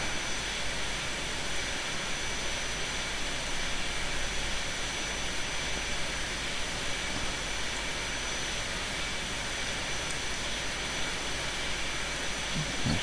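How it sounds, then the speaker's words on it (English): A passenger plane takes off in the video game Airport Simulator 2014, giving a steady, unbroken jet-engine roar with a hiss like white noise that holds at one level throughout, with no talking. "There goes another passenger plane"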